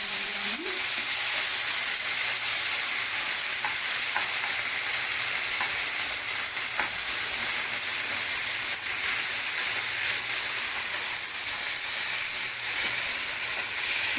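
Tomatoes frying with spices in a pan for an aloo tomato curry, a steady bright sizzle and hiss running continuously and evenly throughout, close up with no voices.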